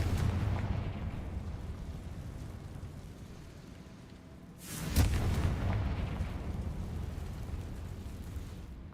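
Confringo fire spell blast in the Hogwarts Legacy video game, a single booming explosion with a sharp burst that settles into a rumbling tail over steady game ambience, with no talking.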